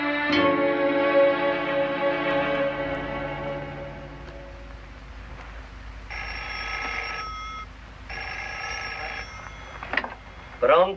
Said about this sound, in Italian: Angela, telefono!